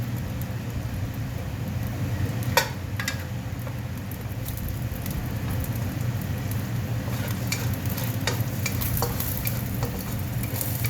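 Ginger stir-fried in a pan for gising-gising with coconut, a steady sizzle and frying hiss with a few sharp spatula clinks and scrapes against the pan. It runs continuously, close and moderately loud, with no talking.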